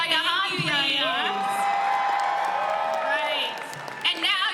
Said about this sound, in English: Give another round of applause for Yaya Han,